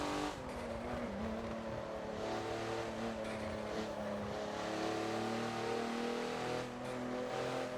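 Porsche race car in a Forza racing game at Lime Rock, engine roaring steadily with tires squealing through a long slide, loud and continuous with no talk.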